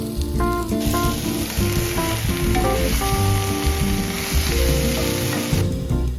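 Pork chorizo sizzles in a frying pan during a car-camping cook, a loud, steady hiss of frying fat with faint tonal whines beneath, no voices.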